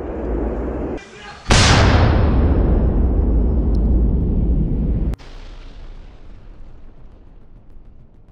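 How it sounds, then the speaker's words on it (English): A 152mm Hyacinth-B howitzer fires from a Russian paratrooper position in the Kherson region, a loud, close blast erupting suddenly and rumbling on for several seconds before cutting off into a low outdoor hush. "Artillery shelling of 152mm Hyacinth B howitzers of the Russian paratroopers destroyed a cannon"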